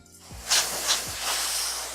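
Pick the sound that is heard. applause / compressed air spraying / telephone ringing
compressed air spraying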